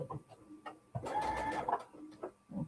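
A sewing machine runs in short bursts, stitching the seam of a quilt block, with a faint whirring hum and quiet pauses between runs.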